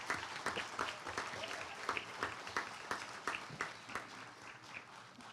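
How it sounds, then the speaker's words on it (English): A school audience applauds students at a Kiwanis Club Terrific Kid recognition event, steady dense clapping from a crowd that continues throughout at moderate volume. "I'd like to give our students all a round of applause one more time"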